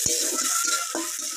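Onion, curry leaves and black cumin stirred in hot frying oil for a Bengali egg curry, a steady bright sizzle with a couple of soft utensil scrapes, close and alone.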